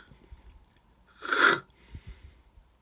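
A voice imitates an extra Welsh alphabet letter with one short breathy, hissing rasp about half a second long, close and alone against a quiet background.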